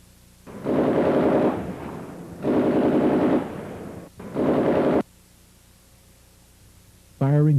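Rapid bursts of automatic gunfire during the North Hollywood shootout, three loud sustained volleys about a second or two each, separated by short pauses, followed by a quieter lull.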